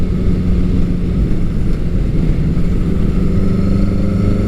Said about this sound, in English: if I shift it back into low range, it's kind of like shifting back into fourth gear